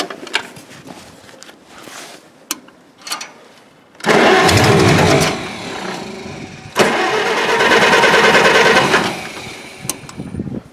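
A small plowing tractor, just back together after carburetor work, is cranked once with a short burst, then catches and runs loudly nearby, dips briefly, and runs again before cutting off, amid some clanking.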